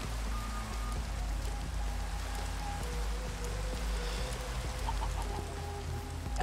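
Steady rain falls in a Minecraft world, a constant dense patter filling the background, with faint game tones and no talk.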